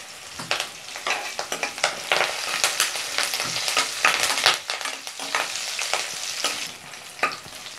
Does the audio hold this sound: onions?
yes